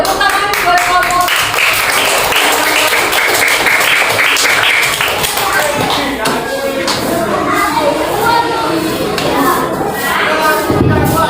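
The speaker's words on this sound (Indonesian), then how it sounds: "Tepuk tangan buat kelompok." Applause for a presenting student group in a classroom, dense clapping throughout with children's voices and chatter mixed in beneath it.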